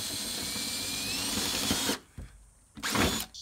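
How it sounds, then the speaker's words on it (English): A power drill bores a hole in a Toyota Tundra/Sequoia body for an ARB Safari snorkel install, whining steadily and loudly for about two seconds, stopping, then bursting on again briefly. "So we'll drill our new hole right there."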